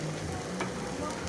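Garlic sautés in a pan as the first ingredient for ginataang papaya, giving a steady close sizzle with light crackles and a brief stir sound at the end.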